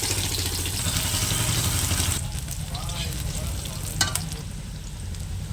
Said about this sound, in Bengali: কড়াইয়ে তেল দিয়ে দিয়েছি দিয়ে দিচ্ছি একটু পাঁচ ফোড়ন পাঁচ ফোড়ন ভাজা হয়ে গেছে দিয়ে দিচ্ছি পেঁয়াজ